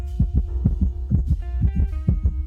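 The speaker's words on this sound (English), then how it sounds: "Heartbeat." Heartbeat sound effect with a steady lub-dub rhythm, deep thumping pulses repeating about every half second, loud and close, alone with no talk.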